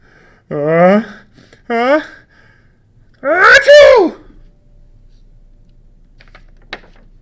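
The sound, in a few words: voice imitating a sneeze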